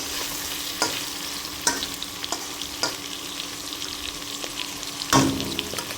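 Chicken hearts and livers fry in a pan with a steady, close sizzle, broken by a few sharp stirring scrapes and one louder burst of spatter near the end.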